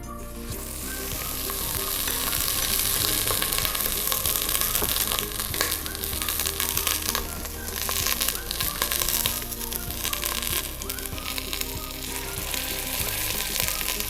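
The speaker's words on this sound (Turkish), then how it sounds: "Yüksek ateşte bir mühürleme işlemi yapıyorum." Loud, steady sizzling of stew meat searing over high heat in a hot pot, continuous crackle throughout with no talking.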